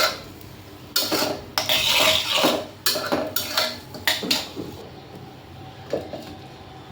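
Pots, lids and metal utensils clank and scrape in a kitchen while a Bengali rui fish curry is cooked, a series of sharp irregular clatters and stirring scrapes, close and fairly loud with quiet gaps between.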